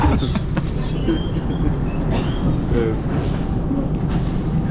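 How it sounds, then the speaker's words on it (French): Metro train at a station stop in Switzerland, a steady rumble with faint clatter and brief squeals throughout, fairly loud and close, with no talk over it. "On est à l'arrêt de métro Fourmi."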